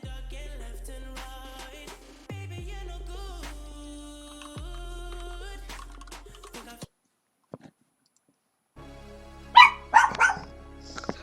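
A pet dog gives a short burst of several sharp barks and yips near the end, close and loud, following a stretch of steady electronic tones and a brief silence.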